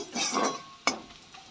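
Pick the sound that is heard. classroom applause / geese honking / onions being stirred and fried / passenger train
onions being stirred and fried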